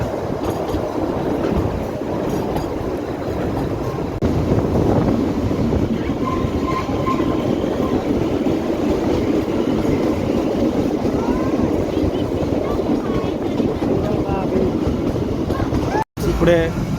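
The Kalka–Shimla mini toy train runs on narrow-gauge rails through snowy hills, a steady loud rumble and rattle of wheels and carriages from inside the coach, with voices audible over it.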